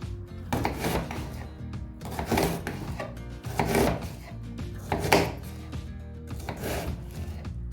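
A knife chops through a vegetable on a board in a series of uneven, close thuds and scrapes, roughly six distinct strokes with short pauses between them and no speech.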